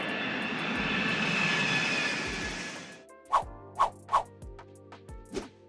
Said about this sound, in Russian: мы взлетаем.